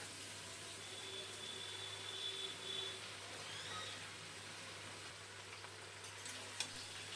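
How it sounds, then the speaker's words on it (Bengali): Chopped mustard greens mixed with vegetables fry in a pan, giving a soft, continuous sizzle with occasional stirring scrapes, faint and steady throughout with no voices. "শাকটা সবজির সাথে মিশিয়ে নিয়ে শাকটাও ভেজে নেব"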